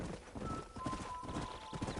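Horse hooves clip-clop steadily in the Red Dead Redemption video game, a continuous rhythmic patter of hoofbeats under faint ambient tones, with a brief voice urging the horse on.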